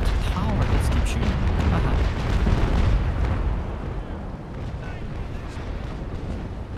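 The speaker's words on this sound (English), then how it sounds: "Tower just keeps shooting." A fortress tower in the naval combat game Naval Action fires cannons during a port battle, heavy rumbling booms and rolling blasts, loud at first and then easing into a distant low rumble, with voices talking over it.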